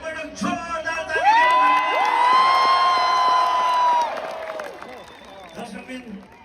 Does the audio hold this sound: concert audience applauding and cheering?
yes